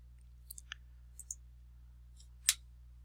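Several crisp computer mouse clicks ring out alone against a quiet hum, a few spaced singles and a final louder click, as someone selects a state on a dashboard map.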